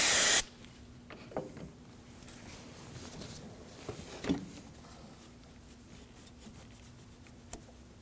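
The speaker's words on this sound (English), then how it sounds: "Spray a little brake clean on a rag and clean out the bore." Brake cleaner sprayed from an aerosol can onto a rag in a garage while replacing a Subaru Crosstrek valve timing solenoid: one loud hissing burst at the start, then quiet rubbing with a few faint scrapes.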